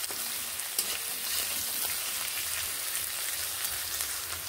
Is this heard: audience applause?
no